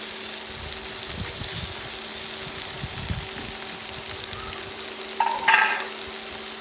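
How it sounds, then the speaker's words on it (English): Rump steaks sizzling in olive oil in a hot frying pan give a steady, fairly close hiss and crackle that holds throughout, with a brief louder spurt near the end. "You want to hear that pan sizzle."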